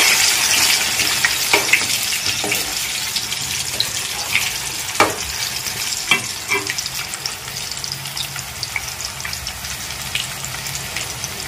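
Ingredients for an amla chutney frying in hot oil, a loud, dense crackling sizzle that runs throughout with scattered sharp pops and spits, close and unbroken by talk.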